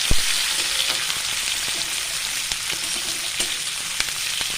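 Shrimp, chopped onion and black cumin fry in a hot pan with a dense, steady sizzle and crackle, broken by occasional light taps of a spatula.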